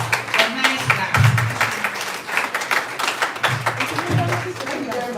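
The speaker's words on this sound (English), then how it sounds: "Please welcome Professor Eliasson with a nice clap" Audience clapping to welcome a professor at a regional health performance review meeting, a sustained round of applause in a hall with bursts of speech and murmuring mixed in throughout.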